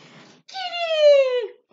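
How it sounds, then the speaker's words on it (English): A single drawn-out meow from a pet cat, loud and close, clear and tonal, following a brief stretch of faint background noise. "My kitty, my cat, Zebra, you cute!"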